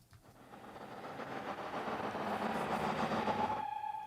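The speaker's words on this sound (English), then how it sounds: "we have the steam tractor sound effect, and then a whistle reversed" Steam tractor sound effect processed with delay and reverb in a music production, a faint mechanical chugging rumble that swells over a few seconds, then gives way to a sustained ringing tone.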